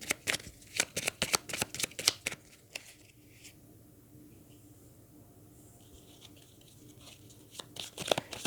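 Deck of playing cards shuffled in quick riffling bursts at the start and again near the end, with a quieter pause between as a card is drawn; close and alone, no voices.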